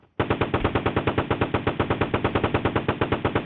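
A tank firing its guns in a Roblox tycoon game: a rapid, even burst of loud automatic shots, roughly eight per second, running continuously and close, with no talk.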